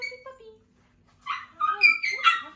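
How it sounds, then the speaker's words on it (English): Young puppies from a litter whimper and yelp in short, high cries, with a brief pause before a louder burst of crying near the end. "Now the other puppies are crying because they want to come out and play too."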